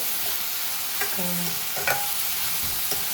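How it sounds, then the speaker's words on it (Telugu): Ridge gourd curry cooks in a pan with a steady sizzling hiss, while a spoon scrapes and knocks against the metal a few times and a short tonal clink rings out once. "ఇప్పుడేమో బీరకాయ వండుతున్నాను"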